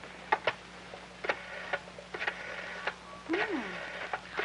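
Telephone being dialed on a 1950s set, a series of faint clicking ticks in an uneven rhythm, quiet and close, with a brief voice murmur partway through.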